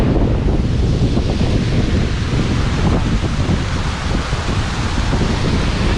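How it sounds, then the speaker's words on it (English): Small Water Beck, a little brook, cascades over a precipice in the Lake District, a loud, roaring wash of falling water heavily buffeted by wind rumble on the microphone, continuous throughout. "This gorgeous little brook cascading over this precipice behind me is Small Water Beck."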